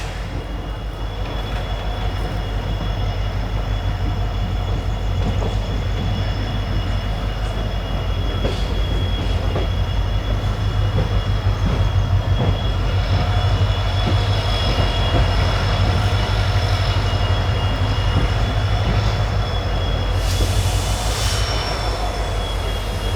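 A fast express train on the Mangaluru–Bengaluru line heard from on board, with a loud, steady rumble of wheels on rails, a continuous roar and faint squealing tones throughout, with no voices.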